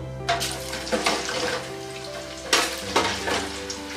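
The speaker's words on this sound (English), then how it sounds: "So we're gonna let them fry for 10 minutes." French fries dropped into deep fryer oil heated to 350 degrees, bubbling and sizzling steadily up close, with sharper bursts of crackle as the batch settles in.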